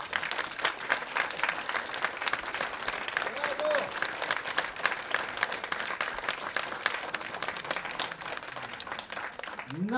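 Sustained audience applause at a concert, a dense even wash of clapping across the whole stretch with faint voices mixed in underneath.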